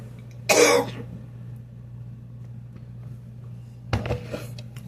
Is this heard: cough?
yes